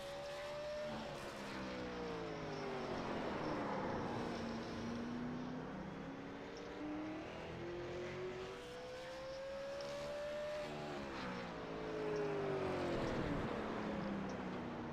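Super late model race car circling Martinsville Speedway during a qualifying lap, its engine droning steadily with pitch rising and falling as it accelerates down straights and slows into turns, heard from a moderate distance over a constant roar.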